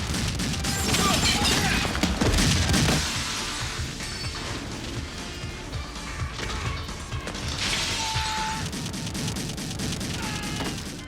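Chaotic action-film gunfight from The Crow, dense bursts of gunfire with crashes and smashing impacts, loud and continuous, with voices shouting over parts of it.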